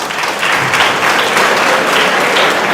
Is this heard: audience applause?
yes